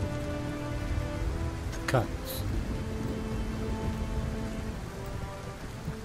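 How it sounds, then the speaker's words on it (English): Steady rain falls in Kerbal Space Program, a continuous wash of downpour under a voice, with a brief sharper noise near the start. "They're a little bummed out for the rain."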